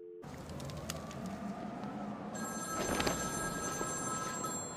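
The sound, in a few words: telephone ringing in Batman Arkham City video game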